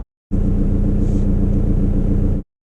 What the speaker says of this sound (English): So this one here is the basic diesel, front-wheel drive, manual.